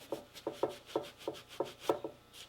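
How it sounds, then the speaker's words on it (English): Dried acrylic paint being rubbed off the hair of a century-old mounted animal, a series of close, soft scuffing strokes in an irregular rhythm. "after our paint's dry, we can go ahead with this acrylic and just rub it"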